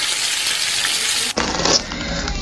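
Bread-crumb- and egg-coated yogurt is deep-fried in hot oil: a soft, steady sizzle jumps into a loud, bubbling fry as the pieces go into the pan, then keeps crackling strongly.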